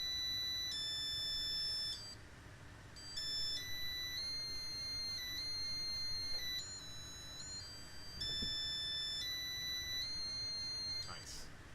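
A small electronic buzzer sounding stepped, steady pitched tones that hold for a second or two and shift up and down, driven near its resonant frequency, with a quieter gap early on and a voice faintly present.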